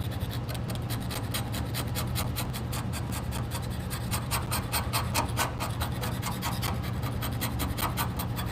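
Hand sanding on a truck with sandpaper, a steady rapid back-and-forth rasping scrape that runs continuously at close range over a low constant hum, with no talking.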